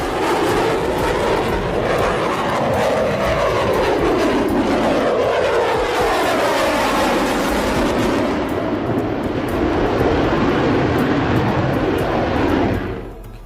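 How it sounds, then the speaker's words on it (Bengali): A fighter jet roars loudly and continuously near an airport, a broad rushing engine noise with sweeping tonal shifts as it passes, holding strong before cutting off abruptly at the end. "এই ফাইটার জেট বাতাসের সাথে পাঙ্গা নিয়ে নিজের শক্তি দেখাতে চেয়েছিল"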